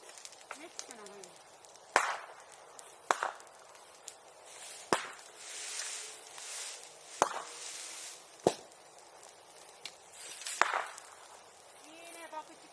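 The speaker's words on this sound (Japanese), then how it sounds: "いいね、爆竹は。" Firecrackers go off one at a time beside a bonfire: about six sharp, loud snaps spaced a second or two apart, with quieter crackling and people chatting faintly between them.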